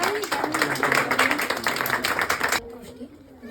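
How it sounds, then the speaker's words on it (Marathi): Students at a personality-development camp clap in a brisk burst of applause that stops abruptly, with a voice speaking under the clapping. "जोरदार टाळ्या जोरदार"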